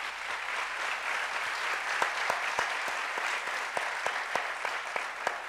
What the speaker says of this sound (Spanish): Un aplauso para Vlado.